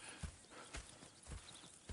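Horse hooves clip-clop in Red Dead Redemption 2, four distinct, evenly spaced hoof strikes at a slow walking pace, fairly quiet against a soft ambient background.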